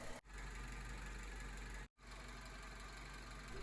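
A 1996–2000 Honda Civic engine runs steadily at idle after a thermostat replacement, a close, continuous mechanical hum with two brief dropouts.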